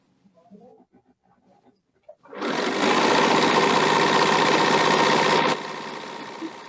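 A home sewing machine chain-pieces four fabric strip sets without cutting the thread, running in one steady continuous whir for about three seconds after faint sounds at the start, then dropping a little toward the end.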